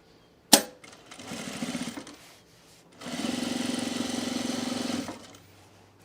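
A sewing machine stitches a cargo shorts pocket in two steady runs, a short burst after a sharp click and then a longer, louder even hum, each close by and alone.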